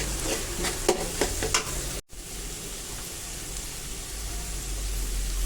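Prawns and chopped onion fry and sizzle steadily in a pan while being stirred, a dense continuous hiss with a few scraping strokes early on and a brief dropout midway.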